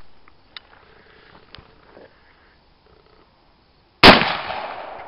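A Norinco JW-83 gun test-fired outdoors: a single loud, sharp report bursts out after several seconds of faint clicks and handling noises, then a reverberant tail rings on.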